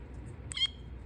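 A toy cat with legs gives one short, chirpy electronic meow-like call, close by and fairly quiet, over a steady low hum with no talking.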